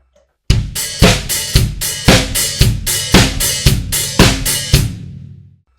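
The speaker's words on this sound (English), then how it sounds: "And this would be with offbeat eighth notes on the hi-hats." Disco-style drum groove for a song, with steady kick and snare and open hi-hats splashing on each offbeat eighth note, about a dozen even, loud hits played alone over five seconds.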